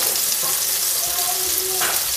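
Onion and tomato sautéing in oil in a frying pan for Filipino ginisang talong, a steady close sizzle with faint stirring throughout.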